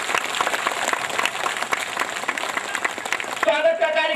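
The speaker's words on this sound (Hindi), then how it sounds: "एक बार पुनः जोरदार ताली बजा उनका स्वागत करिए" Rally crowd at a Suhel Dev Bharatiya Samaj Party event in Bahraich, Uttar Pradesh, applauding steadily to welcome guests, with a dense wash of clapping throughout and a voice briefly rising over it near the end.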